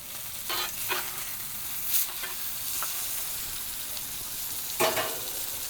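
A ribeye steak sizzles in an Ooni Koda 16 oven with a constant hiss, broken by occasional sharp clinks and scrapes of a utensil, no one speaking.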